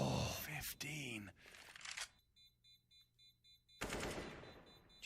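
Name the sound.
automatic rifle spray gunfire in Counter-Strike (CS:GO) video game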